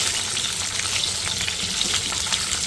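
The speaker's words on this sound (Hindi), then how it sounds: "हरी मिर्चों को इस मसाले के साथ हम फ्राई करेंगे थोड़ी देर" Green chillies frying in a spice masala for a dahi mirch salan, a steady loud sizzle with soft stirring scrapes running continuously and no voices.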